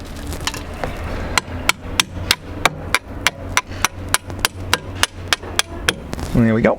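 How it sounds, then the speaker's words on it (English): A screwdriver working at the tilt rod of a boat trim and tilt system: about twenty sharp metallic clicks in an even, fast rhythm, close and crisp, followed by a short phrase of speech at the end. "I'm just going to use a screwdriver to pry it up until it's lined."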